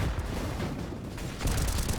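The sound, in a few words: gunfire spraying through smoke grenade in a Counter-Strike-style shooter video game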